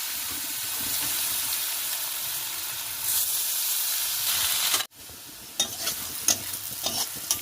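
Salted, turmeric-coated potatoes frying in hot oil in a wok, a loud continuous sizzle with stirring scrapes, then a brief cut followed by crackling and occasional sharp clinks from the pan.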